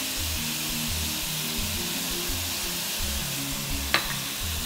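Chicken stir fry with soy and barbecue sauce frying in a pan, a loud continuous close-up sizzle with a steady hiss and one faint tap near the end.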